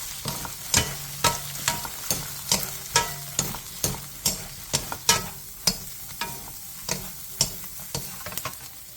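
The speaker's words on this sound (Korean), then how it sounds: "팬에 기름을 두른 뒤 꽈리고추와 소금 3분의 1티스푼, 깐멸치 3분의 2컵을 넣고 중불에서 2분에서 3분간 볶아주세요." Shishito peppers and peeled anchovies stir-frying in oil in a pan over medium heat, a steady sizzle punctuated by regular rhythmic scrapes and tosses, close and clear with no talking.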